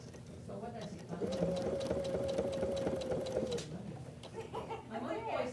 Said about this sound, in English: Stitching that guy down.